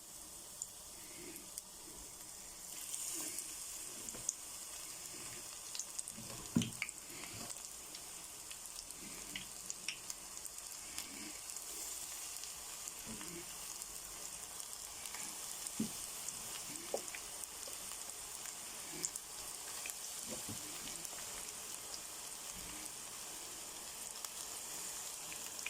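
Onion cooking in a pan makes a steady, fairly quiet frying hiss, broken by scattered small pops and crackles throughout.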